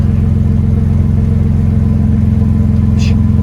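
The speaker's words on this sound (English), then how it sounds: "I think that sounds way better than the factory muffler" A 2024 Ford Ranger 2.7L with a DIY exhaust and the muffler removed idles close by with a deep, throbbing rumble. The low pulsing stays steady throughout.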